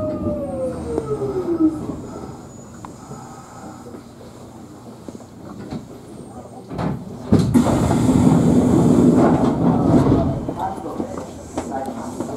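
A Kintetsu Minami Osaka Line train moving through Osaka Abenobashi station in the morning, with a rumbling run, wheel squeal and a swelling roar as it passes, while a platform announcement voice is heard over it.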